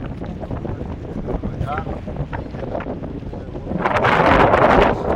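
Wind gusting over the water while fishing, a steady rushing roar on the microphone that swells louder near the end, with faint voices under it.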